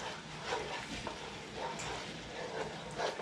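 Food for a tetrazzini dish is stirred in a sizzling pan with a spoon, soft scraping strokes in irregular rhythm over a low frying hiss, close and quiet, no voices.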